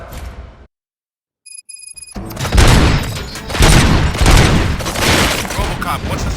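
In the video game RoboCop: Rogue City, after a brief silence and a few electronic tones, a dense barrage of rapid gunfire and explosions erupts loudly and keeps going.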